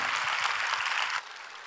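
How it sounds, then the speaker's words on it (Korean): Church congregation applauding to welcome the pastor at a Friday worship service, a dense steady wash of clapping that drops to a quieter level partway through. "뜨겁게 박수로 맞이하십니다."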